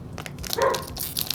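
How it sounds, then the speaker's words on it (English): Pet dogs barking excitedly indoors, a short burst of yips and barks in the background at moderate volume. "if you could hear my dogs going insane"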